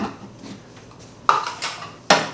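Granola bar ingredients being mixed in a kitchen bowl, with a few sharp clinks and scrapes of a utensil against the bowl amid quieter stirring, close up.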